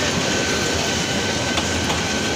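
A passenger train on the Dhaka–Kishoreganj line near Narsingdi junction rumbles steadily along the rails, a loud continuous roar with a faint rhythmic clatter and a thin tonal whine.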